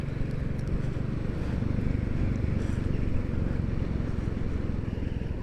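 A Royal Enfield Classic 350 putters along a country road in Glen Clova, its low single-cylinder thump steady and continuous, close and fairly loud with wind rush over the top.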